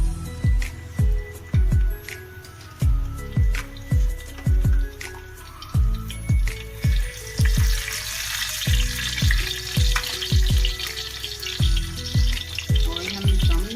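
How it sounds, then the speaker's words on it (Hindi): Garlic cloves fry in hot oil with a steady sizzle, punctuated by repeated clinks and scrapes of a stirring spoon in a rhythmic pattern, fairly close, with no talk. "ऑयल गर्म हो रहा है, इसमें लहसुन डाल दें।"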